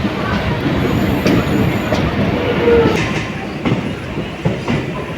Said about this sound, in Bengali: three two nine Tarakeswar Howrah local ছেড়ে দিল তার হাওড়া স্টেশন থেকে